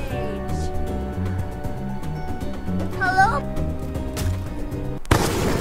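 Rapid, repeated video game gunshots crackle through the whole stretch under steady talking and background game music, ending in one louder, harsher burst of fire.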